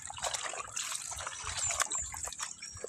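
A weak stream of water trickles steadily from a tap during low water pressure, a close, continuous soft splashing and dribbling with no voices.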